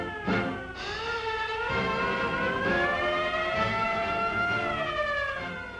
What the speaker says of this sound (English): French seamen are called to battle stations by the wail of sirens.